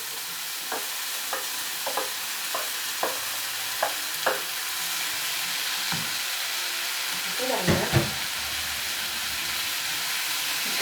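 Onions frying over high heat in a pan, a constant bright sizzle with occasional clicks and scrapes of stirring, close and steady.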